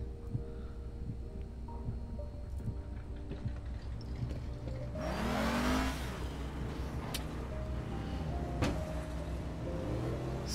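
A slow car's engine drives along in the video game APB: Reloaded, with a steady low hum that swells into a louder, broader roar around midway and stays continuous afterward.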